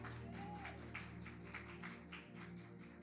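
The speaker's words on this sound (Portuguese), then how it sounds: "pode aplaudir o Senhor" A church congregation claps in a dense, continuous patter of applause at a family worship service, faint and somewhat distant over a low hum.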